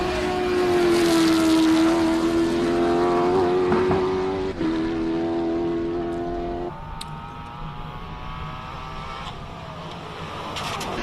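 A classic car at the Simola hillclimb revs hard, a strong held engine whine rising then dropping through gear changes before fading into a lower, more distant drone over about eleven seconds.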